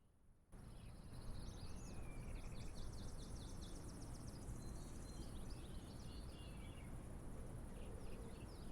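Birds chirp in the Microsoft Flight Simulator 2020 outdoor ambience around a Cessna 172, a faint scatter of quick high twittering calls that repeat in short bursts over a soft, steady background hiss.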